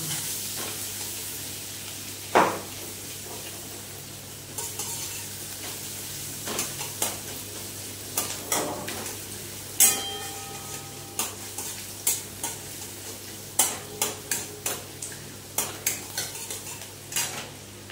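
Chopped ginger and green chili fry in melted butter with a soft steady sizzle, while a utensil scrapes and taps against the pan in repeated sharp clinks.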